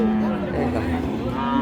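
A cow at a busy cattle market lowing in a long, loud, close moo that spans nearly the whole moment, with faint crowd voices behind it.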